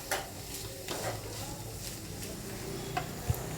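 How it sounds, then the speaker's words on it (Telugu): Dried prawns frying in a pan, giving a steady low sizzle with a few soft stirring scrapes and light clinks throughout. "వీటిని కొంతసేపు ఫ్రై అనేది చేసుకోవాలి"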